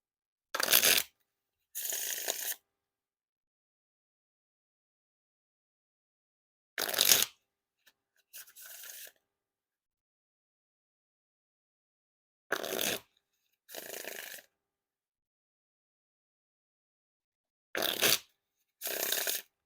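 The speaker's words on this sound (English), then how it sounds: "now time for the wiffle shuffle or bridge shuffle" Playing cards are shuffled in four quick rounds, each a crisp riffle burst followed by a softer cascading bridge, separated by silence.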